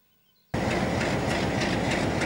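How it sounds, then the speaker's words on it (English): After a brief quiet moment, a loud train engine suddenly starts throbbing and holds steady, a dense rumbling roar with a faint rhythmic pulse, close by, on a train from Puno to Cusco, Peru. "Listen to the throbbing of that engine."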